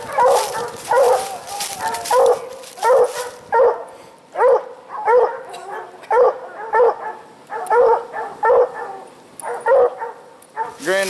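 Hunting dogs bay at a raccoon treed in a leaning tree outdoors at night, giving a long run of loud, rhythmic barks in steady bursts, some of them overlapping.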